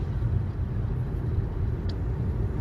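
A car accelerates on the German Autobahn, heard from inside the cabin as a steady low engine and road rumble with a broadband wind hiss. The drone holds at a constant loudness, with no talking.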